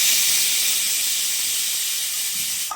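A pressure cooker boiling taro in water releases steam in a loud, steady hiss that holds close and unbroken for a few seconds before tapering off at the very end.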